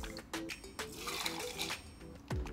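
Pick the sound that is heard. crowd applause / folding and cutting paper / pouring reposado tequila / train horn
pouring reposado tequila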